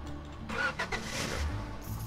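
Truck engine in the Roblox game Lumber Tycoon 2, a quiet mid-pitched motor that swells briefly as it revs and then settles back to a low hum.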